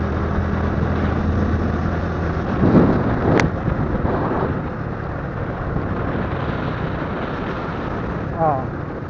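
Strong wind before rain roars steadily and loudly in a continuous broadband rush with buffeting gusts, and a brief voice is heard toward the end.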